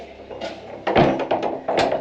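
Old second-hand wooden house door in a home being moved, giving a few knocking, rattling thuds and creaks close by, with two louder bumps toward the end and no talking.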